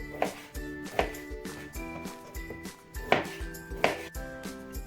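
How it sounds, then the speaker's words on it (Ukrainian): A knife chops fresh tomatoes into small pieces on a board while a salad with crispy eggplant is being made. The blade strikes in steady, crisp, close-up knocks, roughly one per second, with no talking. "мені простіше порізати на дольки, потім ці дольки поділю"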